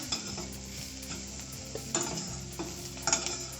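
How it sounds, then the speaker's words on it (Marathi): Karadu leafy greens stir-fried in a pan over a low gas flame, a steady soft sizzle broken by repeated scraping stirs of the spatula, close and fairly quiet, with no talking. "मिक्स करून घेऊया भाजी आता होत आली आहे एक ते दीड मिनिट परतून घ्यायचं गॅस बारीक ठेवायचं"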